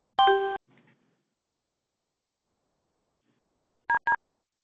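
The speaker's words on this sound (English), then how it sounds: "When you hear the tone, you will be the 22nd person to join the meeting." Conference call system tone on an iMeet meeting line, heard as a loud multi-note electronic chime followed, after a few seconds of silence, by two short identical beeps in quick succession, with no talk.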